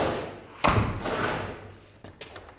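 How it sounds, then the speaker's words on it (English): A door of a new 24x44 saltbox garage with an apartment is pushed shut with one firm thud, followed by fainter clicks as the latch catches; close and fairly quiet. "we'll see if the door is shut and latch"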